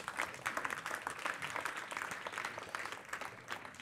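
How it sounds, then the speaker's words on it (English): A conference audience gives a round of applause, dense clapping heard fairly faint and at a distance, holding steady for a few seconds without any voices over it. "Round of applause, I think, for that."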